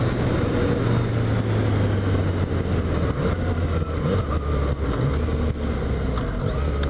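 A 2015 Yamaha FZ-09 motorcycle cruises in fourth gear at about 60 mph and 5,000 RPM, its engine droning steadily with a low, even hum under rushing wind, no talk.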